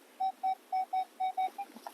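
A Minelab X-Terra Elite metal detector sounds a target signal in a leaf-covered woodland field: six or seven clear, evenly spaced electronic beeps, close and loud, with no talking.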